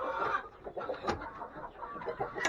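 Chickens and roosters cluck and chatter close by in a busy, irregular flurry, with a sharp squawk in the middle.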